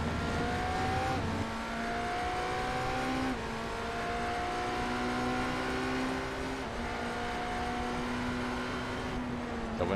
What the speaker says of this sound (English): Using a lot of revs on that Cosworth power plant.